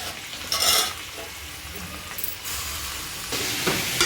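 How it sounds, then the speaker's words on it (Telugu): Chopped pok choi fries and gets stirred in a little oil or ghee, giving a steady close sizzle with short louder bursts of hissing as it is tossed. "ఇప్పుడు దీంట్లో మనము కట్ చేసుకున్న pokchoi వేసుకోవాలి."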